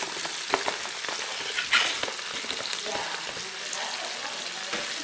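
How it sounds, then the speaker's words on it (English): Celery, carrots, garlic, cilantro, onion and jalapenos browning in a pot for beef stock crackle with a steady, close sizzle, punctuated by a few sharper pops and stirring scrapes. "we're going to brown up all these vegetables"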